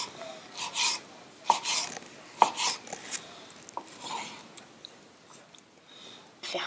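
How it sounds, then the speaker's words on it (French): A knife slices ripe mango into thin strips for sushi maki, a series of soft, uneven cuts and taps on a board, close and fairly quiet, with no talking. "maintenant il faut couper les mangues en fines lamelles."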